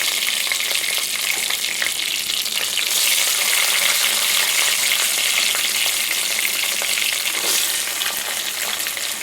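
Onion and garlic frying in a pan with green chillies for a Tamil fish curry, a loud continuous sizzle and crackle of hot oil that swells briefly as the pieces are stirred, with no talking.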